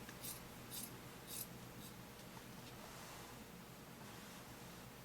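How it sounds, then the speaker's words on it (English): Scissors snip through fleece fabric for a no-sew blanket, a few crisp cutting strokes early on over faint, steady room hiss. "just make sure when you're cutting, especially if you're cutting with scissors, that the fabric is lined up at the end"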